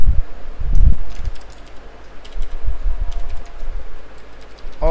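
Code is typed on a computer keyboard, a close run of quick irregular key clicks with brief pauses and a faint fan hum underneath.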